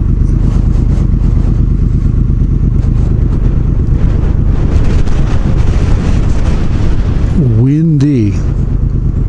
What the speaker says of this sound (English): Got about 20-25 mile an hour winds